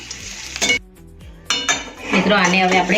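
Crispy chilli potatoes sprinkled with oregano being stirred in a pan, with metal utensils clinking and scraping against the cookware in short bursts, while a person talks over the clatter.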